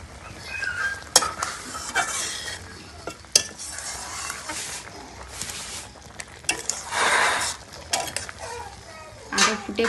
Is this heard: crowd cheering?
no